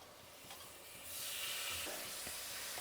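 Chicken pieces dropped into a pan of hot oil and masala for a restaurant-style red gravy, with a faint sizzle that swells to a steady, louder hiss partway through and a few stirring scrapes.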